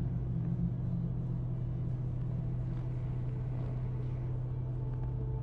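Steady low engine rumble of a car ride in Cyberpunk 2077, a continuous droning hum with no talk, even in loudness throughout.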